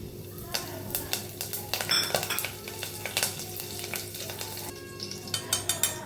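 Whole cumin seeds sizzle and crackle in hot oil in a pan, a steady frying hiss broken by sharp pops and light clinks of a utensil against the pot, moderately close and with no voices.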